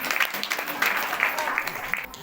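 Congregation at a church service clapping in thanks, a burst of scattered handclaps filling the room over about two seconds, fairly steady and moderately loud.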